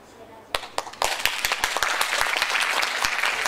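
Applause at a school speech competition starts with a few sharp, separate claps, then swells into steady, full clapping from the audience.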